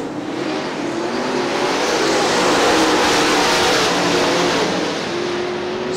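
Super late model stock cars race at Crystal Motor Speedway in Crystal, Michigan, their engines roaring in a loud, continuous drone as the pack runs close by, swelling slightly midway with no talk.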